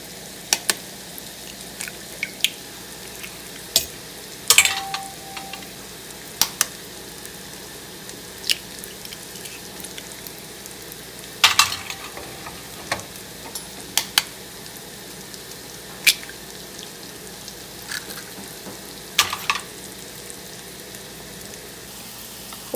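Onions and ginger sauté quietly in a pan under a steady low sizzle while eggs are beaten nearby for a green peas and egg stir fry, with sharp clinks and taps sounding at irregular intervals.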